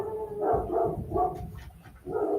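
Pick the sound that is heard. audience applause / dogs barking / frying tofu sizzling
dogs barking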